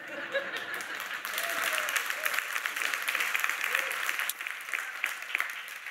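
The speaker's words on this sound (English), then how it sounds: "spontaneous applause is permissible and encouraged." Church audience breaks into applause, a broad wash of clapping that swells after a second and continues steadily, with a few scattered voices and light laughter mixed in.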